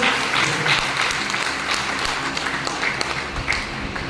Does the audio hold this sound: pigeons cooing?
no